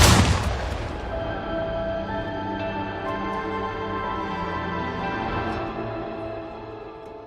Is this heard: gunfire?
yes